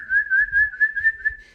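A person whistles a steady, wavering high tone to imitate dolphin sounds, held for over a second with slight pitch wobbles and soft breathy pulses underneath, close and alone.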